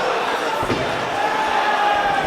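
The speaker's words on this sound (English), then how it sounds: "Slams his way out of that arm bar." A single dull thud as a fighter is slammed onto the mat during a grappling match at a Night of the Gladiators event, heard under a loud, steady crowd roar.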